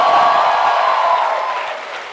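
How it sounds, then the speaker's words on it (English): An audience at a stand-up comedy talk event gives loud, dense applause mixed with cheering, sustained and then tapering slightly as it ends. "Huge round of applause for them"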